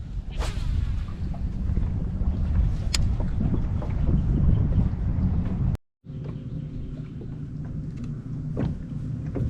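Steady wind blows across the microphone on a Pelican Bass Raider kayak during a fishing trip, making a constant rushing roar broken by one brief gap of near silence.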